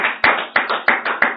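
In a church service, a congregation claps in quick, regular rhythm, sharp beats landing about three times a second and ringing with a bright, roomy tail.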